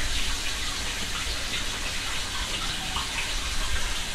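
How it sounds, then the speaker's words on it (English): A pump refills a home display aquarium with a constant, even gush of running water, steady and moderately close with no other sounds. "Now we fill back up. Alexa, turn on the pump."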